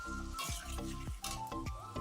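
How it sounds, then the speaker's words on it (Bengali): Potatoes frying in oil with mutton fat, a dense steady sizzle broken by repeated scraping stirs of a spatula every quarter second or so, with no talking. "আলুটা একটু ভাজা ভাজা করবো"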